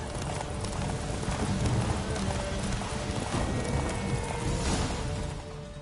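Horse hooves clip-clop rapidly in a steady galloping rhythm, close and fairly loud, with a brief whinny and rattling gear over a busy background, in the video game The Witcher 3: Wild Hunt.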